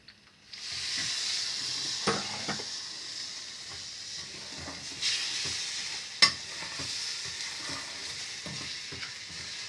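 A chocolate biscuit cake mixture with milk is stirred in a pan over a low flame, producing a steady close hiss with a few scattered spoon knocks against the pan.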